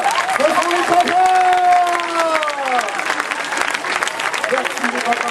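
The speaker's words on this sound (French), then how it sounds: "Je vous demande d'applaudir." An audience applauds the fathers at a live show, steady clapping holding for several seconds while a voice speaks or sings over it.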